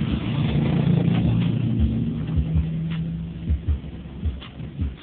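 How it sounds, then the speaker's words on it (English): A stuck car revs its engine in repeated surges, the roar swelling and dropping in uneven bursts at close range, with no voices over it. "That car got stuck?"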